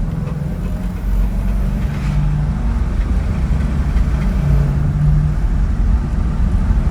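A 1968 Chevrolet Impala SS with a 327 V8 and automatic transmission, 20,000 miles, runs steadily with a loud, deep, continuous engine rumble and low idle throb from start to finish, close up, with no talking.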